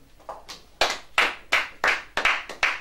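Church congregation clapping in acclaim during a prayer service: a loose run of about nine sharp bursts of handclaps, loud and close, spaced roughly every third of a second with no talking.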